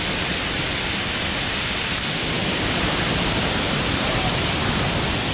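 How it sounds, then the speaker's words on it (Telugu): Badigunta waterfall near Akuru, Rampachodavaram, roars as a dense, unbroken rush of falling water, loud and close throughout with no pauses. "బడిగుంట వాటర్ ఫాల్స్."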